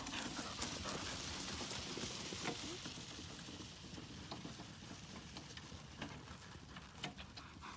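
Hooves clip-clopping at a steady walking rhythm, moderately close, with faint background noise and no clear talking.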